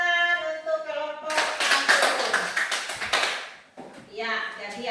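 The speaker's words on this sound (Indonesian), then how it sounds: "tepuk tangan untuk kelompok" A classroom group gets a burst of applause from children lasting a couple of seconds, with voices speaking before and after it.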